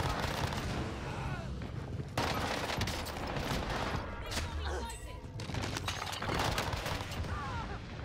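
Rapid gunfire from Call of Duty: Warzone, bursts of automatic shots crackling almost nonstop with short pauses, mid-distance, while players talk over it.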